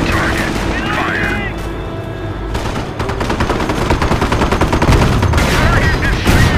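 Cannon fire and battlefield gunfire in the Company of Heroes war game, a busy mix of booms and rattling shots with game voices calling out over the din, growing louder and denser toward the end.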